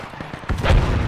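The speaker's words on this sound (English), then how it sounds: "there's some explosions in our path here" Gunfire and a heavy explosion from the military shooter game Project Reality: a few quick sharp shots, then a loud booming blast rolling out for the rest of the moment, fairly close.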